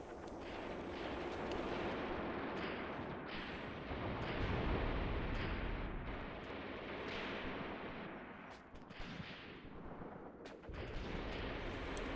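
Field gun artillery fire in the Graviteam Tactics war game forms a dense, continuous rumbling roar with overlapping blasts, steady and loud throughout with a short dip near the end.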